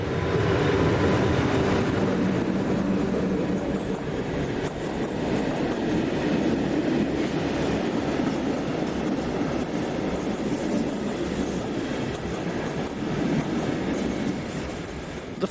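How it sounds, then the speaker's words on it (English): A PKP Class ET42 electric locomotive hauling a mixed freight train in Poland, a loud continuous rumble and rolling clatter of wagons passing close by, gradually easing off toward the end. "one of PKP's ubiquitous Class ET42 electrics heads this mixed freight."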